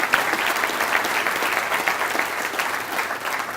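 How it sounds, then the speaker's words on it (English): Sustained applause from a large luncheon audience at a touchdown club, a dense steady wash of many hands clapping, loud and continuous for the whole stretch. "Let's give a big round of applause to all of our great sponsors here."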